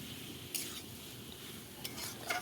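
Spice paste and potatoes stirred and sautéed in a pan for Bengali egg curry, with a soft steady sizzle and a few light clinks of a spoon against the pan.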